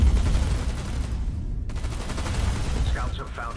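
Beam cannon firing in the space strategy game Sins of a Solar Empire II, a dense stream of rapid rumbling blasts with rattling impacts over a low drone, ending with faint voice-like chirps.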